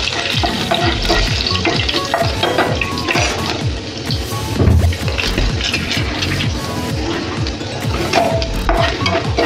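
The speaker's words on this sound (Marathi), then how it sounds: "लसूण जरा आपण लाल परतवणार आहे" Garlic and cumin seeds frying in hot oil in a pan as tempering for an okra dish: a loud, steady sizzle and crackle with occasional stirring scrapes, no voices.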